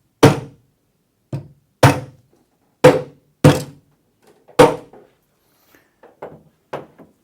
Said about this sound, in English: take a hammer and you knock this centre post in,